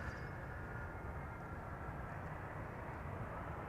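A United airliner arriving at Amsterdam Schiphol after a long flight from San Francisco, heard as a steady, fairly distant broadband jet roar that holds level throughout with no talk over it.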